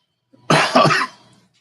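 A single sharp cough bursts out close to the microphone in a quiet room, one harsh hack with a brief second pulse, then trails off; allergies are the stated cause.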